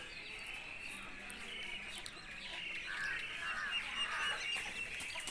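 Chickens cluck and call from a little distance, with a large rooster among them, over steady outdoor background noise.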